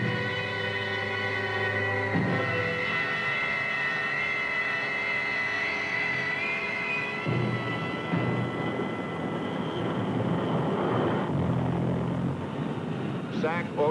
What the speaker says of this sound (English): Strategic Air Command immediately begins dispersing its aircraft.